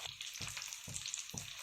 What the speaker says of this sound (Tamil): இப்போ குழம்பு நல்லா கொதிக்குது.